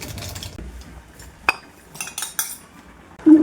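Maggi noodles dropped into a pot of boiling water, giving a sharp metallic clink followed by short clattering, rustling bursts of utensil-on-pot contact at close range, with no talking.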